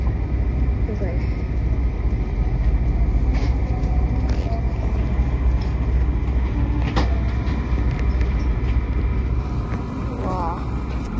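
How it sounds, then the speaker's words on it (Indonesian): Brantas passenger train departing Semarang Tawang station in Indonesia and running on toward Pekalongan, heard as a steady, loud low rumble and rolling noise throughout with faint squeals, under some background voices. "kereta api Brantas yang aku naiki telah diberangkatkan dari stasiun Semarang Tawang ke stasiun berikutnya, stasiun Pekalongan"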